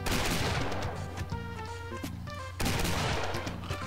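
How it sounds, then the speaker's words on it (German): Rapid gunfire from enemies in the Mario 64 Doom mod Golden Souls, dense continuous volleys with a brief break near the end, loud and close over a steady game soundtrack. "Die schießen nämlich sehr, sehr schnell."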